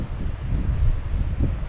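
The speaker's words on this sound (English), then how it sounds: "it's kind of windy." Wind gusts beside a muddy bay, a steady low rumbling buffet against the microphone that swells and dips over a couple of seconds, with no voices.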